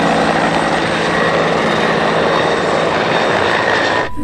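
A toy military helicopter gives off a continuous loud whirring, buzzing drone, close up and steady, that cuts off abruptly near the end.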